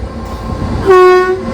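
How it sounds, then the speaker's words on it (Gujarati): Rumbling of an approaching train, then a loud sustained horn blast close by. "તો ટ્રેનનો કેવો છુક છુક છુક છુક અવાજ આવતો છે"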